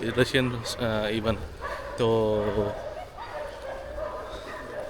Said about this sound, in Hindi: कुत्ते भौंक रहे हैं कुछ